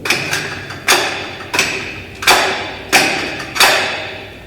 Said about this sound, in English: slide your forearm on the dummy to lift it. You always want to hear this kind of motion.